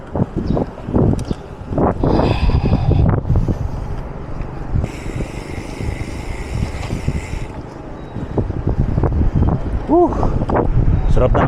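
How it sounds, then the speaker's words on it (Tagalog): Wind buffets the microphone in gusty rushes during a hot bike ride on the road, with a person talking over it and passing traffic noise. "Mainit pero mahangin, ayos."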